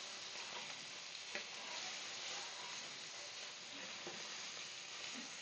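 Duck breast sears in a hot pan with a steady, even sizzle throughout, a faint continuous frying hiss with a couple of small ticks and no voices.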